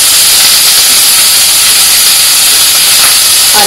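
Chopped vegetables drop into a hot pan for masala rice, giving a loud, close, steady sizzle and hiss that fills the whole moment without a break.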